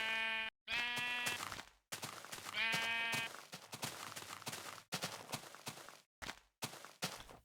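Minecraft sheep bleat twice in clear, close, nasal calls, separated by short gaps and set among soft in-game footsteps and shuffling noises, with no voices.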